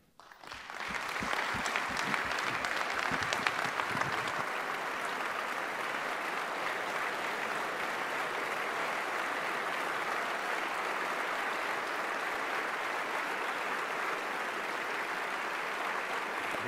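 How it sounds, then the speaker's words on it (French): Members of the French National Assembly applaud Jean-Luc Mélenchon, a broad, sustained wave of clapping from a large chamber that swells quickly and holds steady and even for the whole stretch, with no voices on top. "toute l'Assemblée, ou presque, avait applaudi les paroles de Jean-Luc Mélenchon"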